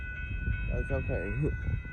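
A northbound Amtrak Texas Eagle passenger train passes a road crossing in Austin, Texas, with a steady rumble and wheel noise close by while someone talks over it.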